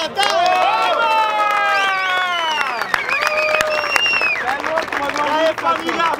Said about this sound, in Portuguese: Palmas pra essa batalha!